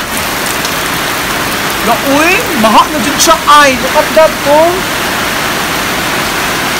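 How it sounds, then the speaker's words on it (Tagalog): Heavy rain pours steadily on a farm field, a dense hiss running throughout while someone speaks excitedly over it in bursts. "ang lakas na ng ulan"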